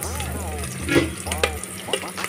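Long-sliced onions fry in a pan with a steady sizzle and a few stirring scrapes, partly under a low hum and a voice talking over it.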